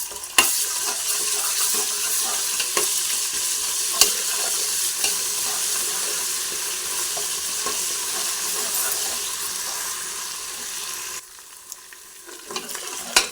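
Onion frying with ginger-garlic paste for a Telangana-style country chicken curry, a steady close sizzle with occasional stirring scrapes that fades lower near the end.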